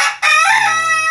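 A rooster named as a fighting or contest bird crows one loud, close, drawn-out call at a crowing duel, with a short break near the start and the tone falling toward the end.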